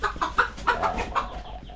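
Chickens clucking nearby during egg collection, several short rhythmic clucks in quick succession, fairly close and moderately loud with no one talking.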